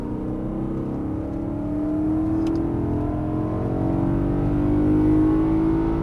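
A BMW M3 E92 with its V8 accelerates on a race circuit during a driving course, the engine note rising steadily and growing louder in a sustained, smooth pull heard from inside the car.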